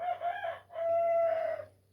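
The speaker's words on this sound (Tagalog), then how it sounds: "Ay, ingay ng manok." A rooster crows nearby, a clear two-part call with a short break in the middle, over a faint low hum.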